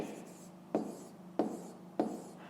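A pen scratches across paper during a fifth-grade maths exercise, with soft continuous strokes broken by three sharper taps at regular intervals, close up in a quiet room.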